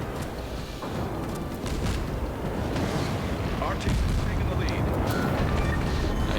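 Torpedoes launch from a Japanese tier 4 cruiser in the naval battle game World of Warships, a dense rumble of launches and distant explosions filling the whole stretch under steady battle noise, with a player's voice calling out over it.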